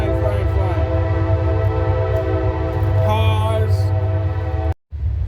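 A long freight train rumbles past with sustained, horn-like tones held steady for about five seconds before a sudden brief cutoff near the end.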